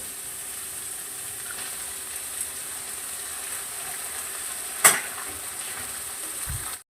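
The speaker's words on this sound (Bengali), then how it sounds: "এবার একটা ডিম ভেঙে দিয়ে ভাত করা নাড়িয়ে চাড়িয়ে নেবো" Fried rice with egg in a frying pan gives a low, steady sizzle and faint scraping, with one sharp clatter near the end and a brief knock as it stops.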